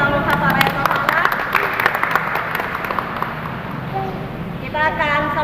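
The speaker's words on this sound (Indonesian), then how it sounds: "Mari kita berikan tepuk tangan untuk semua teman-teman yang telah menghafal ayat hafalan." Applause for children who memorized a verse at a Sunday school service, scattered clapping heard under and between overlapping children's voices and talk.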